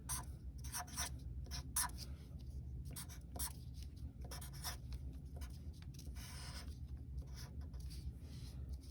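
Marker writing on a whiteboard during a math lesson, a series of short squeaky strokes and scrapes in quick bursts, close and alone.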